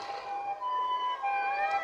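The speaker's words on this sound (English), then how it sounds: "The ambulance again." An ambulance siren wails in a steady, rising-and-falling tone at moderate distance, continuous through the whole moment with no talking.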